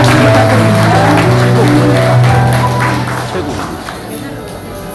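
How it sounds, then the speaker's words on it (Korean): Audience applause for a guest at a meeting, a dense, steady wash of clapping mixed with crowd murmur that gradually thins and softens toward the end. "조종현 대표님 큰 박수 부탁드립니다."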